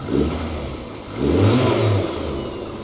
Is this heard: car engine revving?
yes